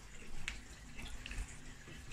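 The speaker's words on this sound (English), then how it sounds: "Just topped Rocky's water up" Water trickling and splashing faintly as a snake's water bowl is topped up, soft and close with a few small drips, no voices.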